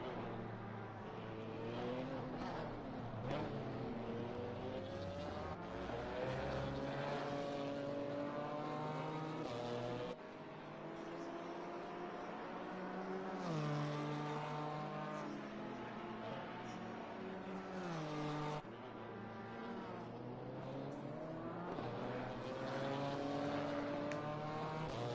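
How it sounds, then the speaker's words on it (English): A BMW M4 GT4 race car charging through Eau Rouge at Spa, its engine note rising and falling steadily with a slight lift mid-corner, loud and continuous throughout. "through Eau Rouge goes the 666 GT4 M4, just lifting a little bit to make sure he can take that inside line"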